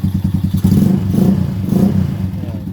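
A Honda Wave 100 motorcycle engine idles close by with a rapid, loud, chugging putter, first sputtering unevenly and then settling into a steadier, throaty running sound.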